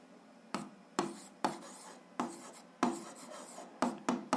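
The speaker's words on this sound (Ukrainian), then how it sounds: "Записуємо то графік" Pen or marker strokes while drawing a function graph during a 7th-grade algebra lesson: about a dozen short, scratchy strokes in an uneven rhythm, close and fairly quiet, with no talking.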